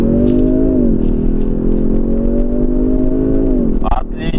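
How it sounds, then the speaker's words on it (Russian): A Kia Stinger engine hums steadily from inside the car as it pulls out slowly and merges into traffic, then the pitch climbs as it accelerates near the end. "Потихонечку выезжаем, скорость у нас 30 километров. И нужно вклиниваться."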